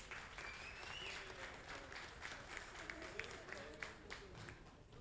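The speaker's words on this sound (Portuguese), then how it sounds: "eu quero pedir uma salva de palmas para esses 4 aqui" Applause for four event organizers rises from a crowd at an official launch, a steady, fairly faint patter of clapping with scattered louder claps, while voices murmur beneath it.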